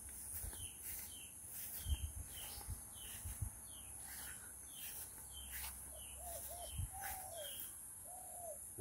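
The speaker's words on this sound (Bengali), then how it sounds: "ঘুঘু পাখি ডাকছে" A dove coos repeatedly at a moderate distance during an early morning walk along a rain-soaked rural path in Bangladesh, its soft rounded calls set among chirping birds and faint background noise.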